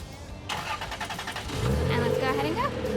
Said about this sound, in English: I also have a cool feature on my key fob that I can automatically start it